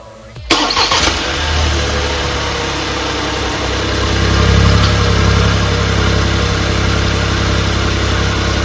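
A 2021 Ford Escape fitted with a new starter cranks briefly and catches, then settles into a loud, steady idle close to the microphone, rising slightly midway.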